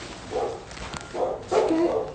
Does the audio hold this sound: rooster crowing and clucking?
no